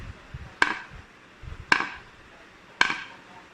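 Three sharp axe blows chopping into a very hard tree trunk in a forest, evenly spaced about a second apart, each a crisp ringing crack with a short decay, no talking.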